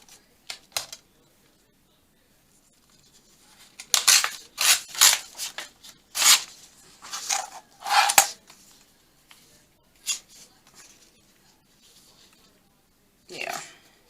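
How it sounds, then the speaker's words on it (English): Printed craft paper is torn by hand for a journal page, heard as several short close ripping and rustling bursts with quiet gaps between them. "Maybe I'll just tear a piece of that off."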